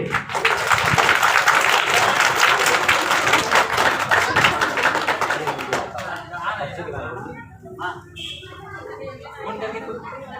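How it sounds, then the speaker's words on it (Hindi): Loud, dense applause from a crowd at a Republic Day celebration fills the first half, then thins into scattered claps and chatter as it dies down. "तालियों से स्वागत करें"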